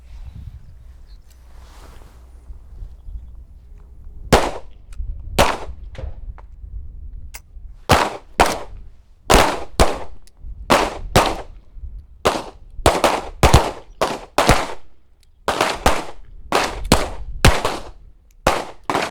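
Pistols fire a magazine at an outdoor shooting range, with many sharp, loud reports in irregular rapid bursts that overlap from several shooters along the line, following a few quiet seconds.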